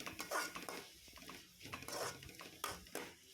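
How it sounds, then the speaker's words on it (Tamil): A spoon stirs onion, green chilli and curry leaves sautéing in a pan, giving soft, irregular scrapes and clinks against the metal with a faint sizzle underneath. "இது எல்லாத்தையும் சேர்த்து கொஞ்சம் வதக்கிக்கலாம்"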